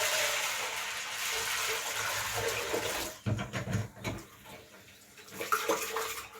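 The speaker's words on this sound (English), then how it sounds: "We're going to throw the coconut juice in the peas now." Coconut juice is poured into a pot of peas for Jamaican rice and peas, a steady splashing pour for about three seconds, then softer uneven sloshing and stirring knocks close by.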